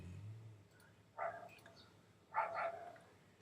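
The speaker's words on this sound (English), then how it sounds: "Sorry about the dog barking in the backyard here." A dog in a backyard gives two short, faint barks about a second apart, heard from a distance against a quiet background.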